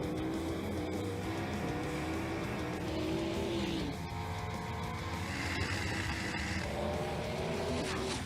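Race car in a racing video game, its engine droning continuously with shifting revs and bursts of tire squeal, loud and sustained throughout.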